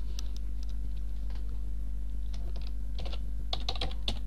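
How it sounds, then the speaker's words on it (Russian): Typing on a computer keyboard while entering data into Microsoft Word 2007: irregular bursts of clustered key clicks over a steady low electrical hum, with no talking. "Ну, вводим эти данные."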